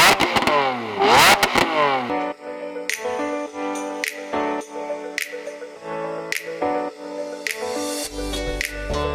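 A Lamborghini Aventador V12 revs hard in a couple of quick rising and falling sweeps, then gives way to punchy music with sharp beats.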